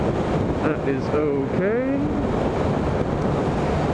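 Strong, cold morning wind buffets the microphone throughout on a commute in South Africa, a steady broadband roar with someone talking briefly over it.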